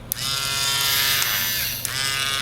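A Jakar battery-powered electric eraser runs steadily, giving a high, even motor whine with a few brief clicks and shifts in pitch as it presses against paper, close up and alone.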